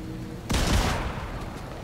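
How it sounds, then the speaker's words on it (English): A pump shotgun in a video game fires a two-shot burst, a sudden loud blast whose boom decays over about a second, heard close and alone. "This is a two-shot shotgun. Shotgun, pump shotgun with a two-shot burst."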